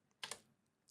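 Typing on a computer keyboard: a few quick, close key clicks in a short cluster, then a pause and one more tap, with no voices.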